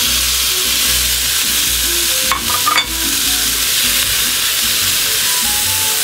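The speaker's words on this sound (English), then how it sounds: "Now we're gonna put some of our green onion in there. We'll put our tomatoes in." Green onion and tomatoes hitting a hot pan of eggs, a loud, dense, continuous sizzle and hiss close up, with a brief clatter of the spatula midway through the stir-fry.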